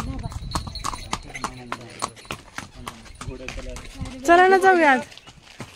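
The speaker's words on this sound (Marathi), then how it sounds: "घोडा आला, घोडा आला" Horse hooves clip-clop at Sinhgad fort, a quick run of sharp knocks close by, and near the end a whinny-like call rises and falls. People talk over the hoofbeats.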